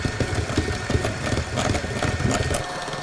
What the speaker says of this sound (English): I'm going to go ahead and use my trusty hand mixer